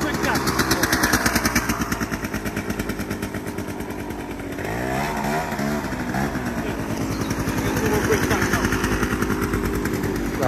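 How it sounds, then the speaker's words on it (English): A Piaggio Zip scooter fitted with a swapped-in Runner 125cc engine runs close by, its buzzing two-stroke note steady with small rises and dips in revs, while voices talk nearby. "This is the runner engine under the zip."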